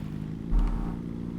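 A car engine in a driving video game idles as a low, steady droning hum with a brief swell of revving midway, fairly faint and heard alone.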